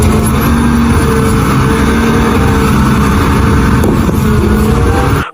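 A garbage truck rolls past at close range, its heavy engine droning loud and steady throughout with a broad low rumble and no break until it cuts off at the end.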